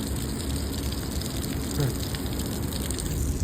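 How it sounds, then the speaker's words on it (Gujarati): A waterfall in Bharuch during the monsoon pours in a dense, steady roar of gushing water, constant and fairly loud throughout with no clear speech. "ભરૂચનો વોટરફોલ"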